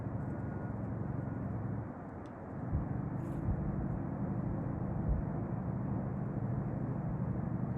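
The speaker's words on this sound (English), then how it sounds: "You can hear that Jake brake." A loaded logging truck's Jake brake gives a faint, steady, low droning rumble heard at a distance, continuous for several seconds with no other sounds over it.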